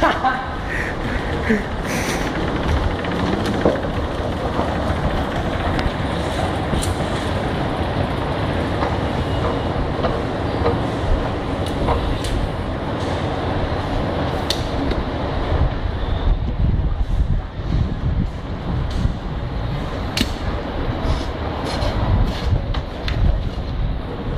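Singapore MRT train at a station gives a steady rumbling rush with sharp clicks and clacks over it, with people talking throughout.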